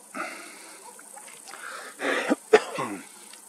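A man coughs and clears his throat outdoors at night, blaming pollen, with two or three short rough bursts against faint wind and quiet background.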